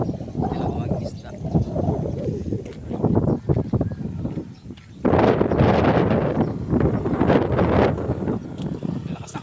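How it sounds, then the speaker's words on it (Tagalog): Strong, cold night wind by the sea roars and buffets against the microphone in heavy gusts, with a brief lull midway before it surges back. "Lakas ng hangin, ang lamig."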